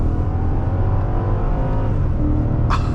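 A 2014 Hyundai Equus 5.0 in sport mode accelerates under throttle, its engine drone loud, close and continuous, with a brief higher whoosh near the end.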